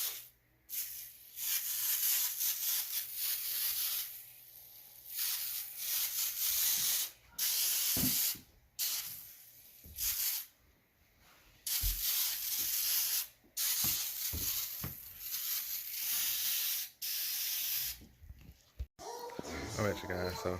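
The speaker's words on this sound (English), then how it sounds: "Then I want to apply another cleaner to it to help uplift those stains." Cleaner is sprayed onto a heavily urine-stained mattress in repeated bursts of hissing mist, with short pauses between pumps, close by and fairly loud across the whole stretch.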